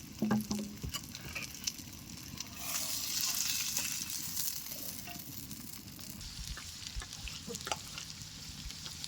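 Rohu fish pieces frying in a pan for a fish-with-cabbage dish, a faint, uneven sizzle with scattered pops and light scraping, swelling briefly in the middle.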